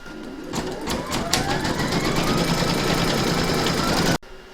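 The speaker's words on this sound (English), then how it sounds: "Pop your hoop back into your machine and stitch round number 3 to secure it." Embroidery machine stitching a securing round on an in-the-hoop Christmas pudding ornament, a close steady buzzing run with quick needle rattle that starts with a few taps and cuts off sharply near the end.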